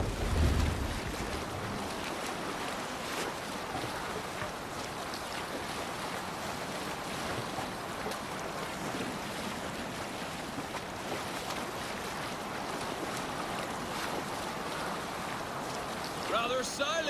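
A Viking longship rowed across open sea in Assassin's Creed Valhalla, with steady rushing waves, wind and water washing around the hull running for the whole stretch under game ambience.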